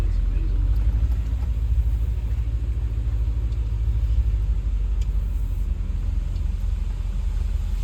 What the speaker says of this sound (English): I guess that bus is just going to keep going until it just pushes the car out of the way